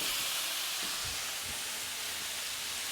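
Steak for steak bombs sears on a grill, a faint, steady, even hiss with a few low soft thumps and no pauses.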